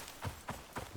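Horse hooves clopping in the survival game Icarus, four soft muffled thuds at a steady trotting rhythm, fairly quiet and close, with no talk over them.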